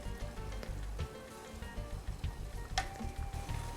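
Vanilla cinnamon syrup with beets simmers in a pot on the stove, a steady close bubbling sizzle with small pops and a brief clink partway through.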